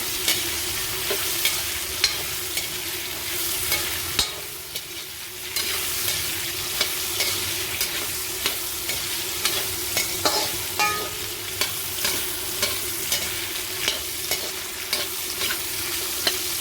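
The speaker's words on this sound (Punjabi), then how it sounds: "ਹੁਣ ਆਪਾਂ ਇਹਨਾਂ ਨੂੰ ਆਲੂਆਂ ਨੇ ਚੰਗੀ ਤਰ੍ਹਾਂ ਭੁੰਨ ਲਾਂਗੇ" Diced potatoes roast in a hot pan with a continuous loud sizzle and regular scraping, clicking strokes as they are stirred and turned, with a low steady hum beneath.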